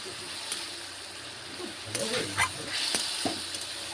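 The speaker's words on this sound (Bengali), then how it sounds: "আদা রসুনের কাঁচা গন্ধ যাওয়া পর্যন্ত ভালোভাবে ভেজে নেব।" Ginger-garlic paste and tomato frying in a pan for prawn malai curry, a close sizzle with clattering stirring and scraping knocks, plus faint background sound.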